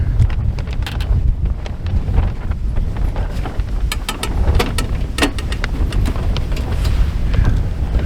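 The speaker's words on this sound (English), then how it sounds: "that wind out here today is nasty" Strong, gusty wind blows outdoors, buffeting the microphone with a loud, continuous rumbling roar punctuated by brief bursts and rattles, with no voices present.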